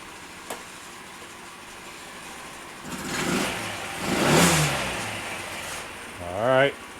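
A 1993 Yamaha Riva 125 scooter, also called the Beluga, recently repaired after a no-start fault, revs its small engine in a few rising bursts, close by and moderately loud.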